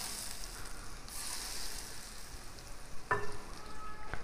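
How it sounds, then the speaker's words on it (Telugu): Tempering added to a lemon chutney gives a soft, steady sizzling hiss, followed by a few sharp clinks and scraping as the mixture is stirred nearby. "ఇట్లా కలుపుతూ పోపు వేసేసుకున్నాం"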